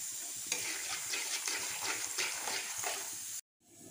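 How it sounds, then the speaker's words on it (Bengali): Peanuts frying and being stirred in a pan while egg biryani is being made, a steady close sizzle with repeated scraping stir strokes, ending abruptly in a short silence. "এখন আমি বাদামটাকে একটু ভাজা করে নেব।"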